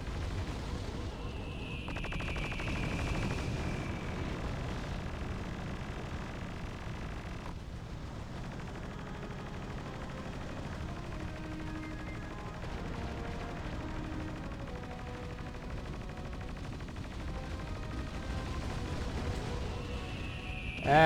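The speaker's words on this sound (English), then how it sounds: "I could probably just let my anti-air cannons finish it off." Rapid anti-air cannon fire from battleships in the war strategy video game Battalion Wars 2, a steady dense rattle of gunfire and booming blasts running continuously at close range with no talk.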